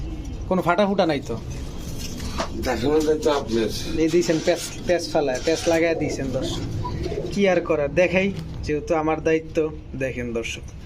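A breeding pair of Dauka pigeons trade soft repeated coos, the male calling and the female answering, close by. Someone talks over and between the calls.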